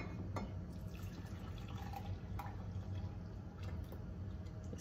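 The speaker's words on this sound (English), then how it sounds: "we're going to take this liquid and strain it through our fine mesh strainer here" Lavender-infused syrup liquid is strained through a fine mesh strainer, a faint steady trickle and pour with a few soft drips and clinks, quiet and without talk.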